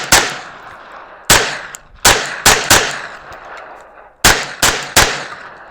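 A Ruger PC Carbine firing from 10-round magazines at a range, eight sharp, loud shots at close range, spaced irregularly as single and paired reports with echoing decay between them.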